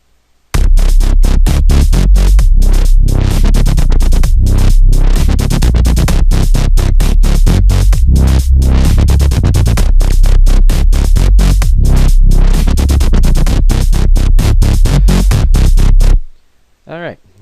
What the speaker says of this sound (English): that's wobble bass all right